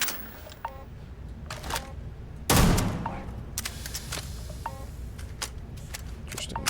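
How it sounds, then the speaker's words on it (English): AA-99 automatic rifle in Starfield, sharp gunshots in short bursts with one loud heavy blast partway through, spread over game background noise with no talking. "What is the AA-99? It's a rifle. It's automatic."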